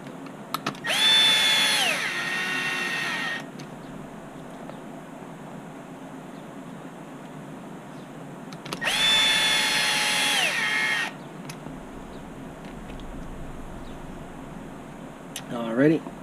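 A power drill drives the top screws into an HB Racing D817V2 RC buggy during its build, in two distinct whirring bursts of a couple of seconds each, separated by a quieter stretch of handling noise.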